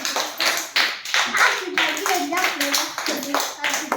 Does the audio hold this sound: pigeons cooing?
no